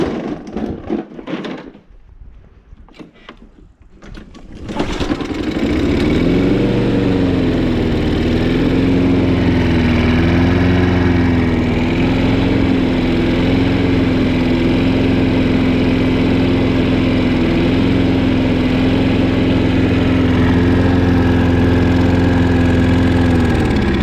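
A Toro push lawn mower engine runs loud and steady at a constant idle-like drone for about twenty seconds, after a few seconds of rustling and handling noise as it starts.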